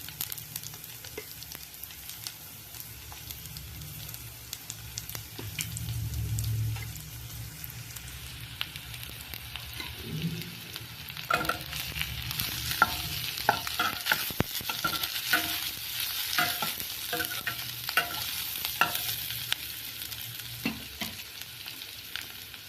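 Onions for a spiced potato dish sauté in a pan, their continuous sizzle joined by repeated stirring scrapes that grow busier and louder in the second half, with no voices.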